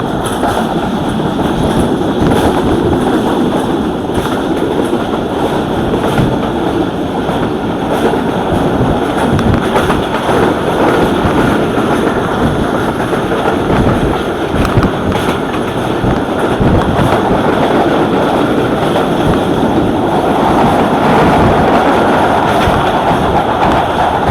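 A passenger train runs steadily at good speed along the track through the Thar Desert, loud and continuous, with rumbling wheels and a rattling clatter throughout.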